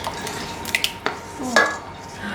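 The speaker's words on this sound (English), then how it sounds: "Should we use the whisk with it? Yes, you can use the whisk." A whisk clinks and scrapes around a bowl of chocolate beetroot brownie batter, a few quick taps and swishes heard up close.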